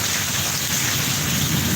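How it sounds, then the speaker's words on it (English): A thunderstorm with heavy rain at night in the UK, a dense, loud, continuous roar of rainfall with a low rumble beneath it and no voices. "you don't usually get thunderstorms like this in the UK, do you?"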